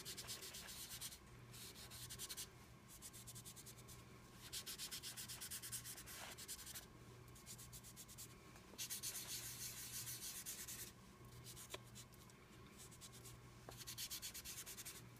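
Faber Castell soft pastel rubbed on paper, a quiet, close sanding-like scrape in repeated back-and-forth strokes with brief pauses, no talking.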